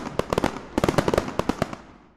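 A fireworks display bursting in a rapid crackling string of sharp pops and bangs, loud and close, clustering in quick bursts before trailing off into fading echo.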